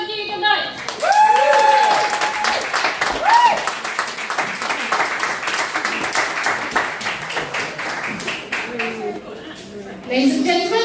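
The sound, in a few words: audience applause and cheering for a poem reading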